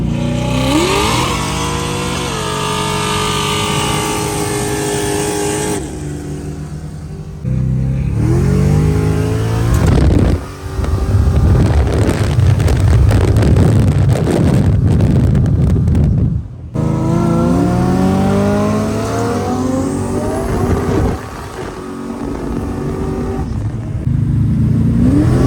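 A Holden VK fitted with an LS engine and a Turbo 400 transmission accelerates hard. The loud engine climbs through revs, drops briefly on a gear change and then pulls again, with steady close-up roar throughout.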